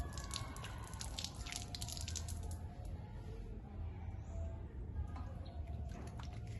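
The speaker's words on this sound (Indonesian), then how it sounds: "basahi tangan dengan air mengalir, lalu tuangkan sabun kepada tangan" Running water splashes and patters steadily as hands are wet under a flowing tap, close and continuous.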